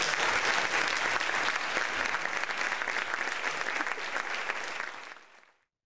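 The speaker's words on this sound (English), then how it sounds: "One more round of applause." An audience at a cybersecurity conference talk applauds steadily with dense, even clapping that fills the hall for about five seconds and then fades quickly to silence.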